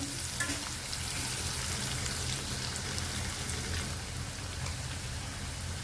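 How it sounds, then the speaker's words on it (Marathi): Onion sautéing in a pan for veg Kolhapuri curry, giving a steady, close, even sizzle and crackle that runs unbroken with no talk. "कांदा थोडा लालसा होईपर्यंत पण परतून घ्यायचा"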